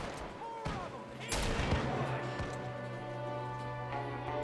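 Cattleman revolver shots in Red Dead Redemption 2, a loud sharp crack near the start followed by another heavy blast, with a steady hum and game ambience carrying on underneath.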